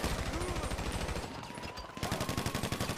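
Rapid bursts of automatic gunfire fill a GTA Online heist shootout, with dense repeated shots, a short lull, then another fast volley.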